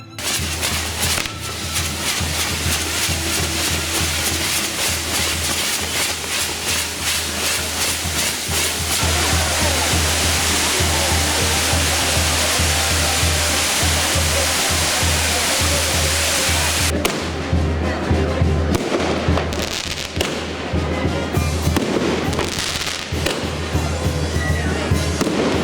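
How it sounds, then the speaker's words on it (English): Fireworks show closing an evening street festival in Ecuador, a continuous dense barrage of bursts and crackles with a steady low rumble throughout, loud and sustained, thinning briefly toward the end. "The evening ends with a fireworks show."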